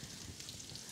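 Meat searing over coals, a faint steady crackling sizzle with soft hiss throughout a brief moment, no voices.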